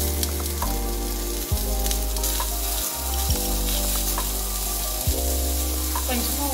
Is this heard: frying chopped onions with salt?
yes